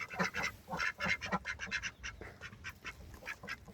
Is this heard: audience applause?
no